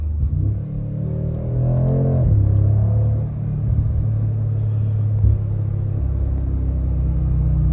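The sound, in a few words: Mercedes-AMG G63 SUV engine driving at quarter throttle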